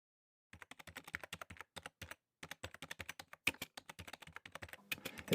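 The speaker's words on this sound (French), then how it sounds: "Elle pianota sur le clavier" Someone types on a computer keyboard in a steady, fast run of light key clicks with a few short pauses, faint and close, with no voices.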